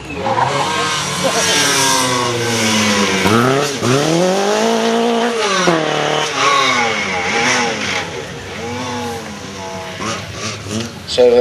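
Classic Ford rally cars in a livery-decorated demonstration run, engines revving loudly with rising and falling pitch sweeps as they accelerate past, continuous and close throughout, with some tyre noise.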